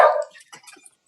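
A single loud, close dog bark opens the moment, followed by a few faint, scattered yips and small noises that fade out in a quiet room.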